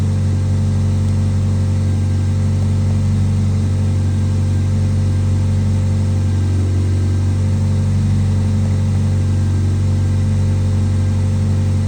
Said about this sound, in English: Alright, the car has been idling about 7 minutes.